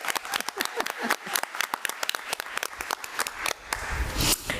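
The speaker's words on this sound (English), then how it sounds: "So let's please give Miss Ashley Cook a round of applause." An audience at a school board meeting breaks into applause, a dense patter of many hands clapping at moderate distance that keeps going for the whole few seconds and swells slightly toward the end.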